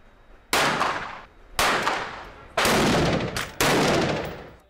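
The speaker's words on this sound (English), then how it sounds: "The gunshots come from a group of highly focused UNC students." Four sharp gunshots from students at target shooting practice ring out about a second apart, each a loud crack followed by a decaying echo.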